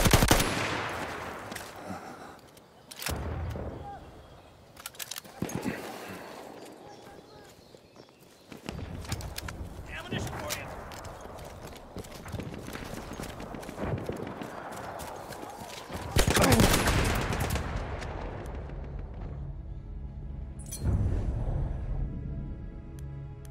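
Gunfire crackles through a battle in the video game Frontlines, with bursts of machine gun fire mixed among galloping hoofbeats, other effects and voices, loud and dense throughout.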